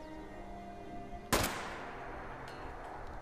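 A single sharp gunshot cracks out in a video game and decays quickly, with fainter distant pops trailing after it over a steady hum of background noise.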